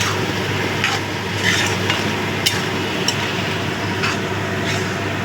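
Spinach leaves frying in a pan are stirred, giving a steady soft sizzle with faint scraping and rustling of the utensil, plus a few light clinks, close and continuous.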